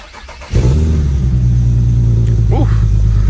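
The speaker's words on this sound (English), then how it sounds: "let's go ahead and start the car" An Infiniti G37 engine catches after a brief quiet moment and settles into a loud, steady idle rumble very close, with a faint voice-like sound briefly over the running engine.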